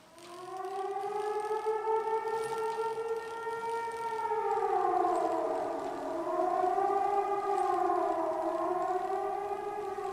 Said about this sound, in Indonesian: Suara sirine.